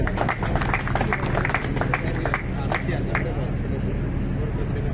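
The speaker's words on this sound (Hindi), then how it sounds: "आप एक बार जोरदार तालियों से आप उनका स्वागत करें।" A crowd at a political rally claps in a dense, continuous wash of applause, loud and steady throughout, with a voice over a public address system talking across it.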